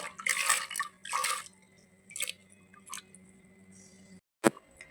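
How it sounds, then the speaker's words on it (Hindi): Soaked lentils are tipped into water in a pressure cooker, making four or five close, wet splashing plops in separate bursts, then a sharp clink near the end. "अब इसे हम कुकर में 4 कप पानी में डाल देंगे।"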